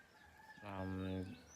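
A single loud, drawn-out chicken call, a rooster-like crow or squawk of about a second, rising over faint background noise in a backyard.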